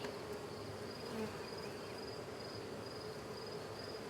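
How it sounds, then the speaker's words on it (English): Bees buzzing continuously around a person during a nuc hive inspection, a steady close insect drone with no talking. "They are buzzing around me like crazy right now."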